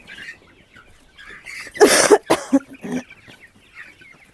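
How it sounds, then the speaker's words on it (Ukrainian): Naked neck chickens cluck and squawk in a short, loud burst near the middle, surrounded by quieter clucking and faint background noise. "Такі голошийки вже бігають, повиростали."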